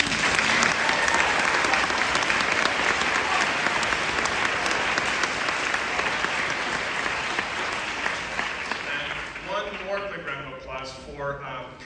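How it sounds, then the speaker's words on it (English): Steady, full audience applause at a high school spring band concert, dense clapping that holds for several seconds then thins out, with a voice beginning to speak as it fades. "We do a quick round of applause for them."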